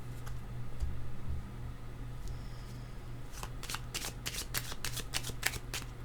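Tarot cards are shuffled close by, first faint rustles over a low steady hum, then a run of quick crisp riffling snaps in the second half, fairly quiet with no talk.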